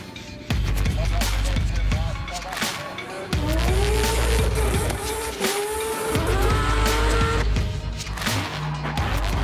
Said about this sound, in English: come flying into this roundabout as fast as we can and drift around it and straight back out the other side